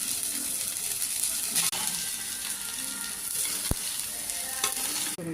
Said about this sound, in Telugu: రైస్ వేసి కలుపుకోవడమే లాస్ట్